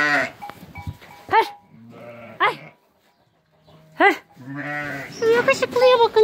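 Sheep and newborn lambs bleating together in a flock, several close, loud, wavering calls with short pauses between them, plus an occasional dog-like bark.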